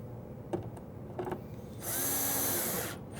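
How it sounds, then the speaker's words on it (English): A power drill drives a screw into a drawer slide inside a wooden cabinet: a few light knocks and handling taps, then one loud, close, high whirring burst of about a second before it stops. "Screw that in place, making sure that that slide in the front is just back from the front edge."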